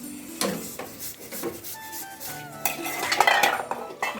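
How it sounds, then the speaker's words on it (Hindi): Dishes, pots and cutlery clattering and scraping as they are washed in a home kitchen, a steady run of close metallic clinks and rubbing knocks with no talking. "यहाँ बर्तन भी धोए जा रहे हैं फिलहाल।"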